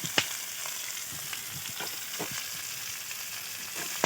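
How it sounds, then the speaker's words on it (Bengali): Beans and cabbage stir-frying in oil for shim posto, a steady close sizzle with occasional soft stir taps and a sharper knock at the start and end; no talking. "দিয়ে তেলের উপরে নাড়বো চাড়বো, নেড়ে চেড়ে একটু ভেজে নেব।"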